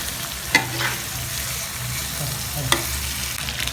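Spices for tilapia barbecue sizzle steadily in hot oil, with a utensil clinking sharply against the pan twice as it stirs.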